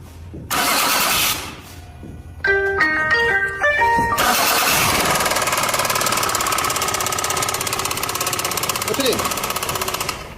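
A Toyota Camry brought in for engine repair cranks briefly, a few chime tones sound, then the engine catches and settles into a loud, steady idle with a faint rapid ticking running through it.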